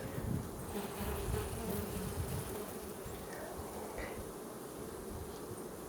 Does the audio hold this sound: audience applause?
no